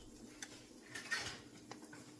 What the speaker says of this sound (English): I'm going to get a spatula